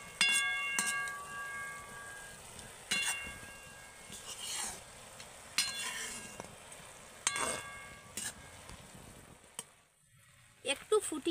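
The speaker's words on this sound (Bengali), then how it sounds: "বোঁদেগুলো রসে দেওয়ার পরে কিন্তু একটু নেড়ে চেড়ে ফুটিয়ে নিতে হবে" Boondi simmering in sugar syrup in a kadai, stirred now and then, giving a soft steady bubbling sizzle with occasional scraping clinks, close and moderate in level, fading out near the end.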